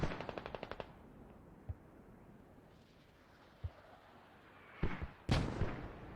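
Gunfire and mortar fire in a multiplayer war video game: a quick burst of automatic shots opens, then single distant thuds follow, and later two louder close blasts ring out against a low rumbling battlefield background, with no talk.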